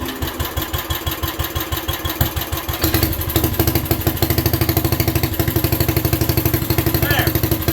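A 1967 Unico tractor with a 7 hp engine runs steadily with a regular chugging pulse, growing louder and fuller partway through as it takes load, with a voice in the background.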